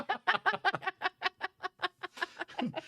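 A person imitates a duck with a rapid string of clipped, nasal quacking sounds, about a dozen short bursts in a quick, uneven rhythm, close and fairly quiet.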